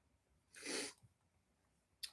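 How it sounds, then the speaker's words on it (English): A single faint, breathy sneeze in a quiet room, followed by a brief short puff of breath, alone without any talking. "I might sneeze"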